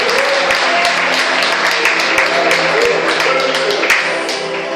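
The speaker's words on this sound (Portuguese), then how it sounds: "dá uma salva de palmas para Ele, para o Deus, o único Senhor e verdadeiro Rei dos reis" Church congregation applauding with hands raised during worship, loud, continuous clapping that fills the room, with sustained tones from music or voices running beneath it.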